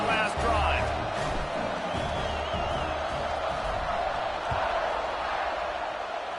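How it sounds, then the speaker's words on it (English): A stadium crowd in a college football video game, Notre Dame, keeps up a steady, broad roar under continuous play-by-play commentary from a male announcer. "this crowd is feeling themselves after that last drive"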